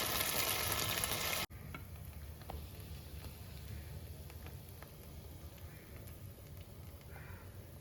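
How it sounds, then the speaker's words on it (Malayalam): Butter melting and sizzling in a pan on the stove, a steady fine crackle after a brief louder burst at the start, close and continuous with no talk. "നമ്മളൊരു പാൻ വെച്ചിട്ട് അതിനകത്ത് കുറച്ച് ബട്ടർ ഇട്ടിട്ടുണ്ട്"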